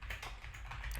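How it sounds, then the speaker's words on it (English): Typing on a computer keyboard, close and quiet, with a quick irregular run of light key taps filling the whole second. "I have to be like this to type."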